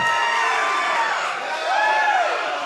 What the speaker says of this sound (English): What a reaction from this great crowd here tonight.